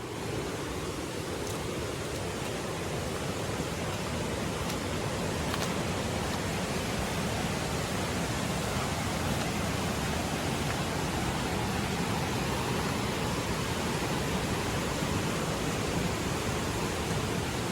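A river flowing past areca plantations, heard as a constant broadband rush of water, steady and moderately loud throughout without pauses or speech.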